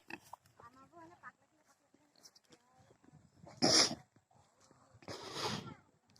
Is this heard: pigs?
yes